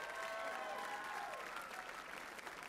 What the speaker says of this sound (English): Give them all three a big round of applause.